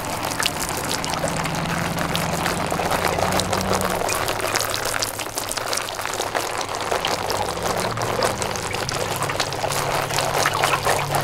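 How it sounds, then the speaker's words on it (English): Water is poured steadily from a watering can onto strawberry seedlings in seed cells, a continuous loud splashing patter that runs the whole time with no talking. "Give them a light watering, like I just did."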